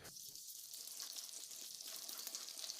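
Duck breast searing in a pan, a faint, steady high hiss of sizzling fat running throughout, close and alone.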